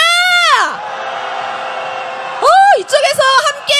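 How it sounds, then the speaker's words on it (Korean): A street crowd at a candlelight impeachment rally in Hongdae, Seoul, roars with cheers and shouts in two loud surges, with a sustained collective yell between them and a speaking voice over the second. "이쪽에서 함께 함성을 질러주고 계십니다"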